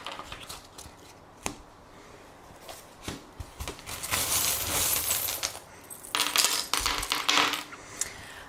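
Small fortune-telling charms are tossed and shuffled for a reading, giving a series of light metallic clinks and rattles that start sparse and build into a busier, jangling clatter, close and fairly quiet, with no voices.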